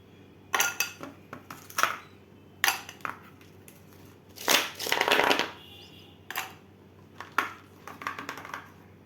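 Ice cubes dropped into a cup holding caramel sauce for iced coffee, a series of bright clinking clatters in irregular bursts, close and moderately loud, no talking.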